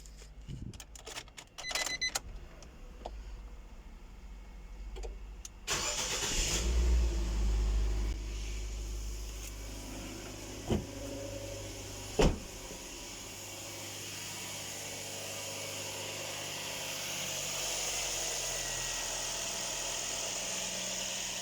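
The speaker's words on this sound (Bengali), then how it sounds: "চলুন চালু করা যাক গাড়িটা" Nissan Sunny 2015 with a newly replaced AC compressor bearing: a few clicks and key jangles, then the engine cranks and catches at about six seconds and settles into a quiet, steady idle with a couple of brief knocks.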